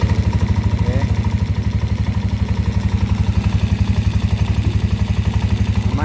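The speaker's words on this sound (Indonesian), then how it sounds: "Ini motor sudah menyala teman-teman" A Yamaha NMAX scooter, just repaired after stalling, idles close by with a loud, even, rapid pulsing engine beat that stays steady throughout.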